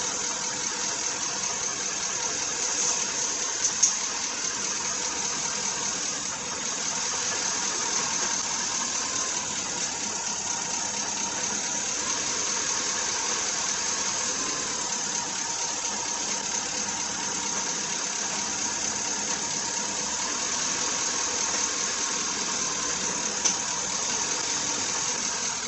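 A 2008 Ford F150 with an automatic transmission idles steadily through the whole stretch, a smooth, even mid-pitched engine drone with no revving and no voices.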